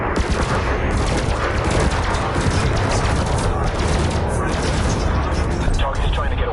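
Spaceship weapons firing in the Elite Dangerous video game: a relentless, loud barrage of rapid crackling shots and booms, continuous from start to finish, with voice chatter running underneath.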